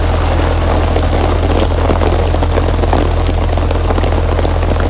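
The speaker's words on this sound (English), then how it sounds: "Sorry about the noise of the rain on the umbrella" Steady, dense patter of rain drumming on an umbrella overhead, loud and continuous, with a low rumbling hum underneath and no talking.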